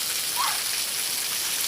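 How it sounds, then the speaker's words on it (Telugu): Heavy rain pours steadily in a village, a dense continuous hiss of drops beating down on surfaces, loud and close with no voices over it. "వాన చూడండి ఎంతలా పడుతుందో,"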